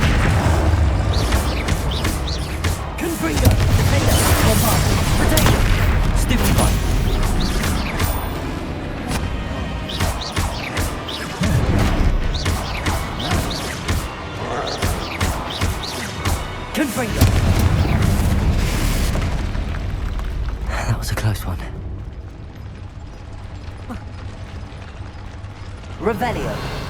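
Repeated booming spell blasts, Confringo and Bombarda, in the wizarding game Hogwarts Legacy, loud bursts in clusters amid continuous combat noise, with a voice speaking between them and quieter moments near the end.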